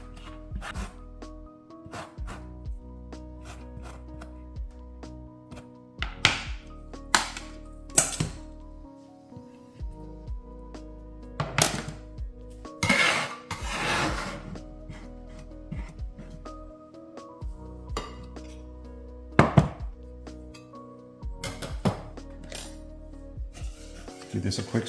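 Lemons are zested on a grater in short, scratchy rasping bursts, spaced irregularly, with occasional light clinks in a quiet kitchen.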